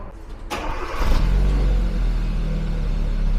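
A Hyundai car's engine is started up close: a sharp crank catches about half a second in, then settles into a loud, steady low idle rumble.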